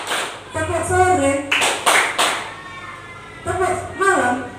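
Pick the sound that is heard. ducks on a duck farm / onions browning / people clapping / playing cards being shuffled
people clapping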